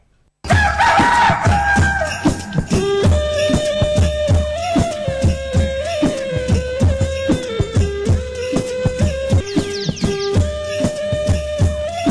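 Desi poultry kept in backyard coops crow and cluck together in a dense, continuous chorus, loud and close, with rooster calls rising over steady clucking throughout.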